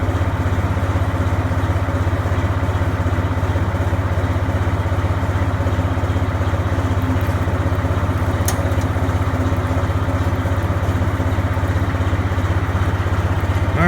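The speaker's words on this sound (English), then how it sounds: "We'll put our power takeoff in gear here at an idle." Tractor power takeoff idling while it drives an H & S hay tedder, with a steady low engine drone and mechanical hum that run evenly and loud for the whole stretch, no talking.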